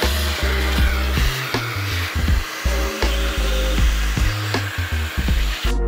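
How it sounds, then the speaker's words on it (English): An angle grinder grinds down the chain cover of a swapped Honda Grom motorcycle, its whine and rough rasp loud and close, cutting in and out in repeated short bursts before stopping. "take your time and let the grinder do the work"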